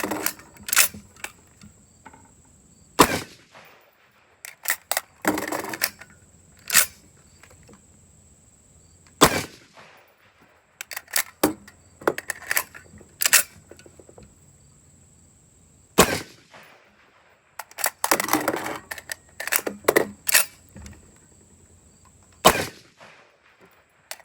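A Ruger Mini-14 rifle fired rapidly through six 20-round straight magazines outdoors, with loud sharp shots in quick bursts separated by short pauses and metallic reload clatter.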